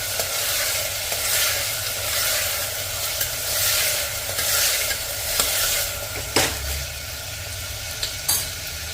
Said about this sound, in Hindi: इसके साथ ही इसमें डाल देंगे सेंधा नमक। अब इसे चला लेंगे 1 मिनट के लिए।